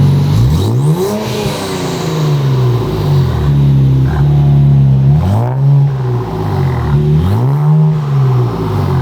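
A Nissan Z with an AWE Touring/Track Edition exhaust revs loudly and close by, three distinct swelling revs rising and falling over a steady idle, with a throaty tone.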